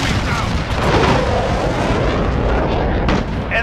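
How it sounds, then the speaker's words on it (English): A heavy VTOL aircraft in a first-person shooter roars loudly overhead as a dense, continuous rumbling drone with booming layers, close and dominating throughout, with battle noise mixed in. "Heavy VTOL on stage."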